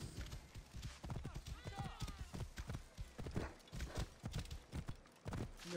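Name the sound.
horse hooves galloping in race, video game Assassin's Creed Origins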